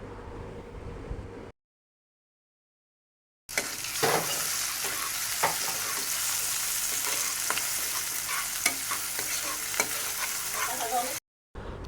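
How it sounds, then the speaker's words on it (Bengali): Onions cooking down in a pan with turmeric, chilli, coriander and salt for a taro curry give a steady close sizzle with scraping stir strokes, broken by a dead-silent gap near the start and cutting out just before the end. "সব লবণ সব কিছু দিয়ে পেঁয়াজটা ভালোভাবে কষিয়ে নিলাম।"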